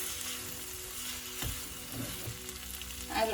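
Garam masala, dried fenugreek leaf powder and frozen peas hitting a hot pan, giving a soft steady sizzle close by with a few brief stirring knocks and a louder burst near the end.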